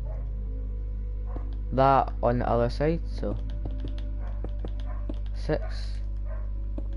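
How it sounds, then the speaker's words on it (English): Neighbour's dogs bark in a short burst of several yaps partway through, fairly close, followed by faint scattered sounds while someone talks intermittently over a steady low hum. "My neighbour can't shut her dogs up."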